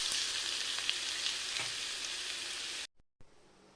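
Tempering of cumin, dried red chillies and crushed garlic fries in hot oil, a steady close sizzle with faint stirring that cuts off abruptly near the end.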